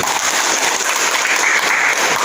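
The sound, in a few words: applause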